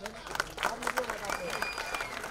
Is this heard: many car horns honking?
no